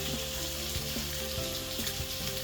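Olive oil sizzling steadily in a frying pan on the stove, a bright, constant crackle that holds for the whole stretch, with a few soft clinks and low tones beneath it and no voices.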